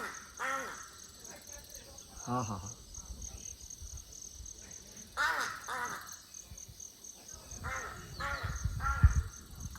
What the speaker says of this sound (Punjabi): ਪੰਛੀ ਬੋਲਦੇ ਆ